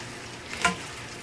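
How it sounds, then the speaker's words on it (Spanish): Tortillas for red chilaquiles drop into hot oil in a pan, giving a faint, steady background with one short sizzling burst near the middle. "voy a agregar las tortillas aquí en el aceite"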